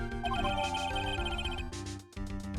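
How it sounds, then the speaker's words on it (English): A phone rings with a bright melodic ringtone, loud and close, its repeating electronic notes continuing with a brief break near the end. "Hey, Nick, your phone"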